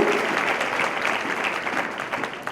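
Church congregation applauding during an Easter service, a full, steady round of clapping from a large room that stays strong throughout with no talking on top.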